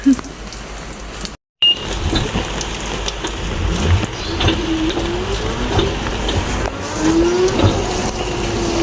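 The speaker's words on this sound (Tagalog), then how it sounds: "Kaya lang maulan po." Steady rain falls outdoors during a wet day with flooding nearby, a dense close patter of drops on surfaces that runs loud and unbroken apart from one brief dropout; no speech.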